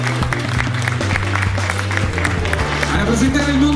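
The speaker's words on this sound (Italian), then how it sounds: "facciamolo un applauso, grazie!" Audience applause for a jury member at a beauty pageant in a club, a steady wash of clapping and crowd noise running continuously over loud background music.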